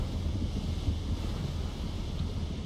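A storm in the naval video game Age of Water gives a steady, blustery rush of wind over rolling waves, a dense low roar without breaks and no voices.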